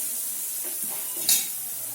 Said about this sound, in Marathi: व्यवस्थित मसाला शिजला पाहिजे आता याच्यात आपण सुखी मसाला टाकून घेऊया